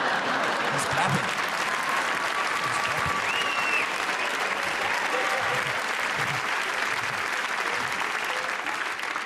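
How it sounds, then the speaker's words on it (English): Hands clap in a steady, continuous burst, dense and fairly loud throughout, like applause filling the space with no pauses. "He's clapping."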